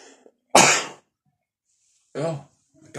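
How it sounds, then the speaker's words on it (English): A single loud, close sneeze bursts out after a brief quiet, followed a moment later by a voice speaking nearby in an indoor setting during a Funko Pop toy unboxing. "I'm about to sneeze."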